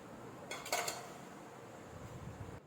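Chana chaat ingredients being stirred together in a bowl, heard as a short burst of faint clinking spoon-against-dish scrapes followed by quieter rustling, with no talk.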